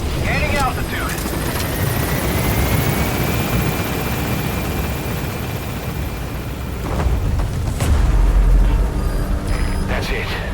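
A helicopter in Metal Gear Solid V gains altitude, its rotor roar steady and loud with a rising whine, then swelling into a deeper rumble near the end, with radio-style voices over it.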